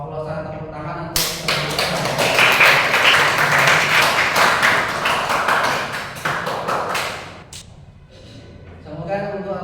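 An audience claps in applause at a classroom or school event, a dense burst of many hands that swells and holds, then fades, with voices talking at either end.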